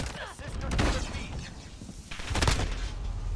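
Gunfire from the video game Modern Warfare 2019 strikes an enemy, two bursts of loud, close shots with thudding impacts a second and a half apart, a voice briefly speaking over them.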